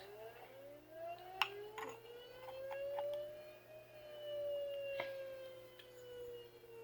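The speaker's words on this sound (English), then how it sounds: "Let's show some sirens." A tornado siren from a personal siren collection winds up and wails in one long sweeping tone that rises and slowly falls, steady and fairly loud with faint background noise.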